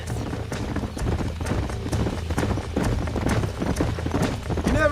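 Horse hooves clip-clopping in Red Dead Redemption, a steady rapid run of hoofbeats, loud and close, carrying on throughout without pause, with faint music or game ambience beneath.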